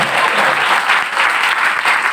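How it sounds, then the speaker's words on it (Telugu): Loud, dense applause from a church congregation, many hands clapping continuously and close, a steady rushing wash of claps with no pause. "గట్టిగా చప్పట్లు కూడా దేవుని వైపు"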